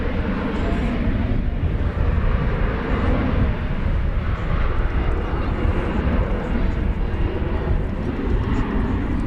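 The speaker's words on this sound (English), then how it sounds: "we've got another Sun Country. This one coming in from Corpus Christi, Texas. That will be a" A Sun Country Boeing 737-800 jet arriving from Corpus Christi lands at DFW Airport, its steady, loud engine roar and rumble continuous throughout with no break.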